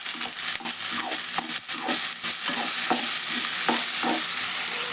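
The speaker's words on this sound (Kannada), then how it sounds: "ಉಳ್ಳಾಗಡ್ಡೆ ಒಳಗೆ ಹಾಕಿ ಹುರಿಯನ್ರಿ" Onions frying in a pan together with sprouted horse gram, stirred briskly so a close sizzle runs under repeated scraping and clattering strokes of the spoon.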